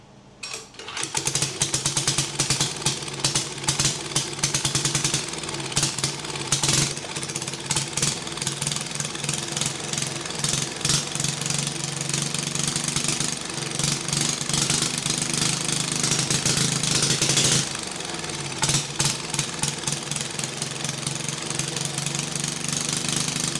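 A diesel-powered motorcycle engine running steadily at low RPM, a loud, continuous knocking chug with a rapid regular beat close by, holding almost the same pace throughout.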